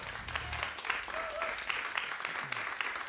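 Audience applause for jazz musicians at a concert, steady dense clapping from a seated crowd throughout, fairly distant, with a faint low hum and a brief tonal sound partway through.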